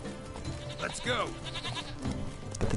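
Goats bleat in a countryside scene from the video game Witcher 3: Blood and Wine, a couple of wavering cries rising over game sounds while a person talks over them.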